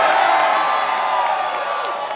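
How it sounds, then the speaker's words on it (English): Crowd at a live rock show at House of Blues in Dallas cheers and whoops loudly and steadily, a dense roar of voices that stays strong and fades only slightly toward the end. "Let's hear a cheer for some awesome shit."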